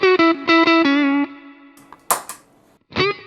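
Electric guitar through a Pedal Tank Zentro Overdrive, with a driven, distorted tone, plays a few quick chopped notes and a sustained note, then scratchy noises and a final ringing strum.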